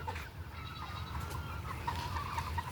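A poultry farm holding around 2,200 hens and a few roosters, steady low clucking and murmuring from a large flock, fairly faint and continuous with no clear single calls standing out.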